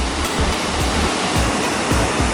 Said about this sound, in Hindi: ये यहाँ का एक वाटरफॉल है